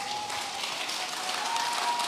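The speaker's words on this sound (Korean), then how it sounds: "여러분 더 크게 박수 쳐주실 거면 크게 가죠, 크게 우리." An audience applauds at a Buddhist meditation talk event, a short burst of continuous, dense clapping that stays fairly steady and moderately loud.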